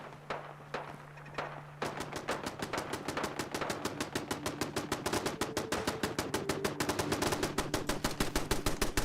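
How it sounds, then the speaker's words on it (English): Rapid automatic turret gunfire in Sim Settlements 2 starts with a few scattered shots, then becomes a dense, steady burst of sharp reports that grows louder and fills the rest of the stretch, with a low hum underneath. "Oh, it's this turret. Who are you shooting at?"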